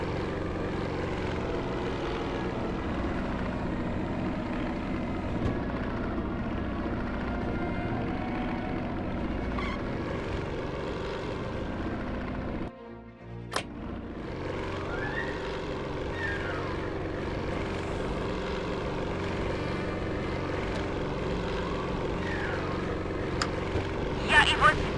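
Aircraft engines drone loud and steady in the WWII flight game Secret Weapons Over Normandy, a continuous propeller roar lasting the whole stretch, with a brief dropout midway and faint whooshes passing by.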